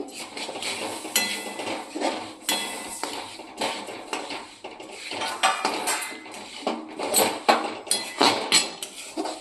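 Roasted black sesame seeds being mixed into chikki in a pan over low heat make a busy run of metallic scraping and clanking of a spoon against the pan, close and continuous with rhythmic bursts.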